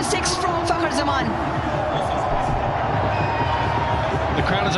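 Dense stadium crowd roaring and cheering at Gaddafi Stadium in Lahore after a six is struck in a T20 cricket match, a sustained loud wash of massed voices.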